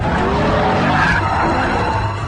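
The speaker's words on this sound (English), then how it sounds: "Hard on those brakes." On a race track, a Lexus IS F or BMW M3 saloon brakes hard and its tires skid with a loud, continuous squeal, close up and with no gaps, over a steady car noise.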